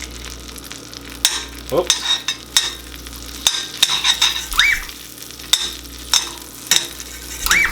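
Food cooking in melted butter in a frying pan, a broad steady sizzle with repeated spoon-stirring scrapes and clinks, close and fairly loud, with a brief spoken exclamation.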